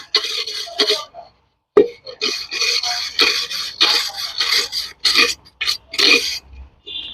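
A rose pot is scrubbed to remove moss and green slime, with repeated rasping rubbing strokes in uneven bursts and short gaps, close and fairly loud.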